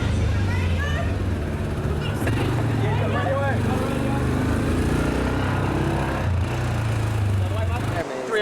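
An inflatable rescue boat's outboard engine on a surf beach droning steadily at moderate distance, under talking and beach noise, cutting off at the end.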